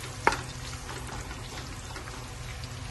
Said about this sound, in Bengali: গাজরগুলো আমি একবার দুবার নেড়ে নেব ভালো করে।